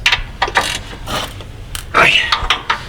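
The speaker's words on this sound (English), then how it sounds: "we can use a 3/8 ratchet and make sure that they are very nice and tight" A 3/8-inch ratchet tightens bolts on a 6T70 transmission, giving short bursts of rapid metallic clicking in several spurts, close by, with a low background hum between strokes.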